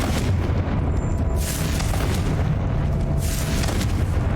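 Booming fire-spell blasts from the Hogwarts Legacy video game, a dense, loud run of explosive bursts and rumbling impacts that sweeps up in intensity twice, with no voices over it.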